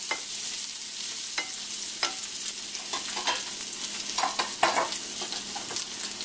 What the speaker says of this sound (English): Make sure you turn in your onions so they would all caramelize evenly